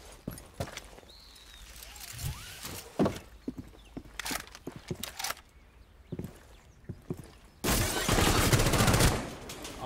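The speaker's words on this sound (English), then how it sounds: "Oh, he starts shooting fast." Gunfire in the video game Rainbow Six Siege, scattered sharp shots through the clip and a dense, loud burst of rapid fire near the end.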